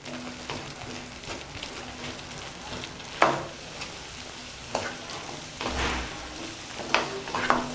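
Potato masala with turmeric and water sizzles in a pan while being stirred, a soft continuous frying hiss broken by occasional scraping clicks of the spoon against the pan.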